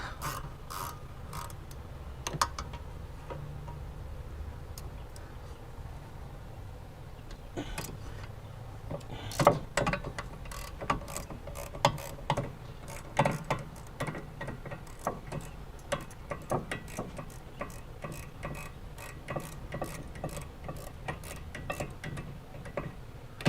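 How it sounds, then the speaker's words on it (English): A ratchet clicks in quick bursts while working on rusty brakes of a Honda Civic, the fast ticking repeating in short runs over a quiet garage background, with a few louder clunks of metal on metal. "Got a long ratchet."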